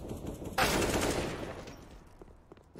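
Gunfire in Counter-Strike on the Nuke map during a pro match, a sudden loud burst of shots that decays into rattling echoes, with faint sporadic shots after it.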